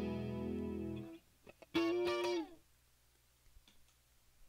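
Electric guitar through a chorus modulation pedal: a sustained shimmering chord that stops, then a brief bright chord rings and is cut off, with faint scratchy handling noises after.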